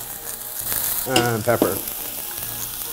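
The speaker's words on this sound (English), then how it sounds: "put your pot on the heat, a little bit of olive oil in there, then in with your onions and your ginger" Onions and ginger sizzle and fry in olive oil in a pot on the heat, a steady close crackle that swells briefly with stirring while a voice talks over it.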